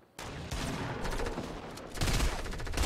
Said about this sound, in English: Everybody was shooting the guy in front of us, anyways.